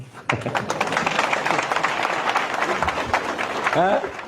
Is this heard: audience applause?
yes